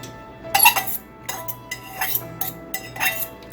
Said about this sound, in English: And you want to stir that up really good into your 4 tablespoons of melted butter.